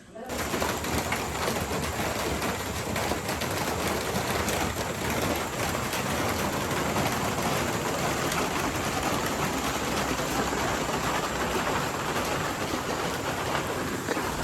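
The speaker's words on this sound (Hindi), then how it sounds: "आज बहुत तेज़ बारिश हो रही है" Heavy rain pours steadily, a dense unbroken hiss that stays constant throughout with no letup, and a few faint background sounds are buried under the downpour.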